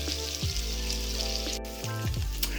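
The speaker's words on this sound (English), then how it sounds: "flip and fry until you're done" Chicken livers fry in a hot pan with a steady, close sizzle and crackle beneath a low hum, no talking.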